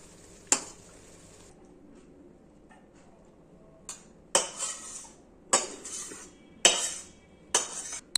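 A pot of curry comes off a stove with a few sharp metallic clanks and scrapes, separated by quiet gaps and growing busier near the end.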